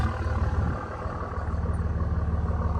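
A Cummins diesel Dodge Ram 2500 pickup idles steadily with a deep, low rumble and a faint rhythmic pulse, fairly close and continuous.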